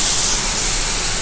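Ingredients poured into a hot pan on a home stove hiss into a loud, steady sizzle that holds evenly throughout with no talking.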